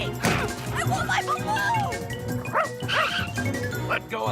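A cartoon dog barks and yips in short bursts mixed with crashes and thwacks, with voices talking and shouting over the commotion.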